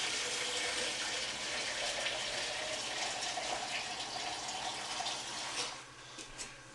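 Water pours steadily from a pitcher into a large cooking pot, a full, continuous splashing gush that tapers off near the end.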